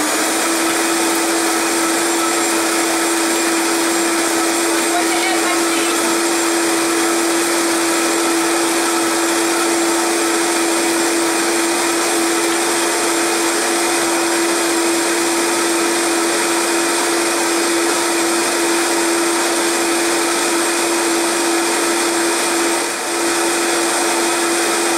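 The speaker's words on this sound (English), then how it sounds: "My Vitamix is programmed to run for 60 seconds" A Vitamix blender runs steadily on a blackberry mojito smoothie, a loud, close, unbroken whirring roar that holds for the whole stretch without talk.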